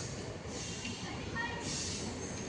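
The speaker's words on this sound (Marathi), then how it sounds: "हे बाजला रेल्वे चालली" A low, steady rumble of a train rolling past at a distance near Mumbai's Jogeshwari, with a faint metallic squeal rising briefly midway; murmured voices sit underneath.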